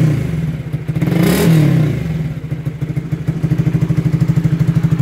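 A cold fuel-injected motorcycle engine is revved while warming up: a loud near swell of throttle, then a fast, steady, pulsing idle that thumps evenly to the end, with no talk.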